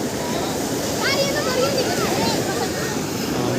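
Surf washes and breaks steadily along a beach at night, a continuous broadband roar with a few faint, high bird-like chirps partway through.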